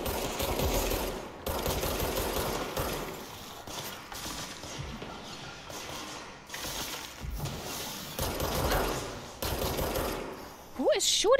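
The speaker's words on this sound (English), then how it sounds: "Who is shooting at me?" Enemy gunfire in the game Control, with irregular bursts of automatic shots coming in waves and pauses, mixed with mechanical clanks and thuds, and a voice speaking intermittently over the combat.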